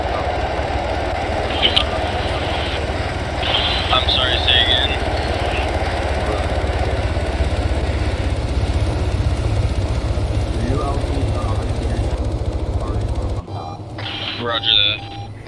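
In the ArmA 3 video game, a helicopter's engine hums and thrums steadily at close range, with players talking over the continuous rotor drone before it cuts away near the end.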